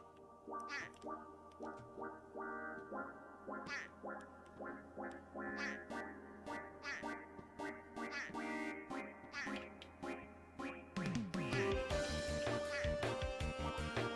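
Ducks quack repeatedly inside a duck room in a video game, with steady rhythmic quacks over a chiptune soundtrack that grows busier and louder toward the end.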